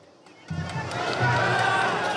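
Factory workers in Belarus shouting and booing at Lukashenko, a crowd roar that bursts in after a brief quiet moment and builds into sustained, loud jeering and chanting.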